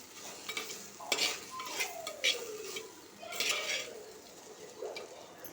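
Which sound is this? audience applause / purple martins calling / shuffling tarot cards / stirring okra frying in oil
stirring okra frying in oil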